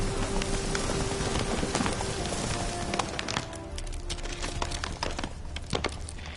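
Roach the horse galloping in a PS4 game, a rapid steady drumming of hooves under a dense wash of wind or rain-like noise, loud and continuous with no voices.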